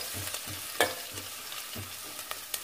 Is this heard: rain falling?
no